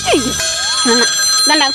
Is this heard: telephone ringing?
yes